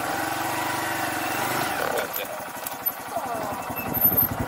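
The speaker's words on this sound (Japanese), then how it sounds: "ちょっとクラッチをこうつなぎ始めるとエンジンの回転数が落ちるもんで" A manual-transmission motorcycle during half-clutch practice idles with a steady hum, then its revs drop into uneven chugging pulses as the clutch begins to engage, close by, under a person talking.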